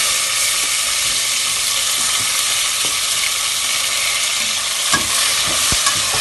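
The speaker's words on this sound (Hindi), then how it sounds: "इसको अच्छी तरह हम अभी भूनेंगे।" Steady, close sizzling from tomato and onion frying in a pan, a continuous hiss with occasional soft scrapes and clinks of a utensil stirring.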